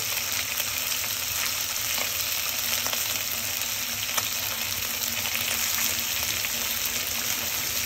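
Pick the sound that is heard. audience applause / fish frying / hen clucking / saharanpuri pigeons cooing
fish frying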